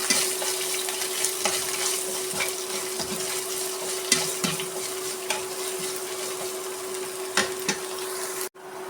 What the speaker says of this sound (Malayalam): വെളുത്തുള്ളി കറിവേപ്പില സവാള നന്നായി വഴറ്റി കൊടുക്കണം